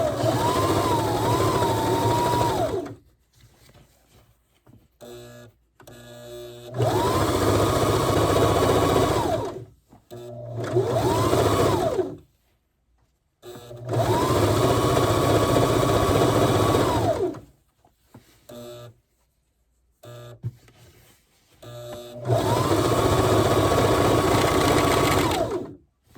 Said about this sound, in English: I have my material in my sewing machine, and I'm going to make the seam